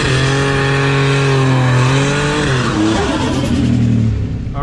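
A Buick Grand National race car launches hard at a drag strip, its loud engine revving up with rising harmonics and a tire squeal, then dropping off as it pulls away, with no talking.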